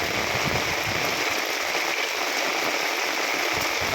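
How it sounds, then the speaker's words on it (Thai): Heavy rain pouring down steadily, a dense unbroken hiss of drops hitting surfaces close by. "ตอนนี้กำลังตกหนักเลย"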